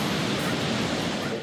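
Ocean waves wash in a steady, broad roar of surf with no distinct breaks, loud and close, with no voices.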